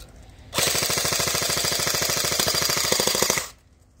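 A Gameface RK74 airsoft rifle fires a sustained full-auto burst of about three seconds, a rapid, even mechanical rattle close to the listener with no talking.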